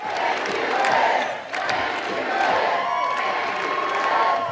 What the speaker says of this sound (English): That proclamation spurred a chant of approval from the crowd.